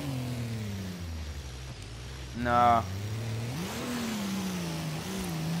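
A Nissan Titan trophy truck in the racing game Forza Horizon 3 pulls hard in sixth gear, its engine a steady mid-pitched drone with a short louder surge partway through, while someone talks over it.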